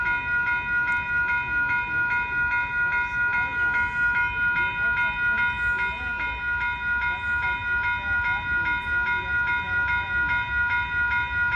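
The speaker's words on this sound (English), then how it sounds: "here comes Amtrak, Coast Starlight train number 14" Amtrak Coast Starlight train number 14, led by a P-42 Genesis locomotive, approaches on Fruitvale Avenue in Oakland, California, its horn blaring loudly and continuously over a steady rumble as it draws near.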